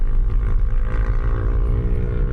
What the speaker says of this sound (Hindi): उसने अपनी बाइक का साइलेंसर ही निकाल रखा है